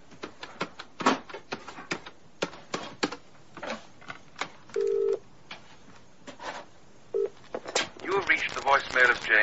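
A telephone beside a bed being dialed, with a run of sharp clicks and short tones in quick irregular succession, a held tone in the middle, and faint voices toward the end.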